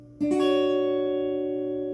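A guitar chord is barred across the top three strings and struck once, a sharp attack followed by a clean sustained ring that slowly fades.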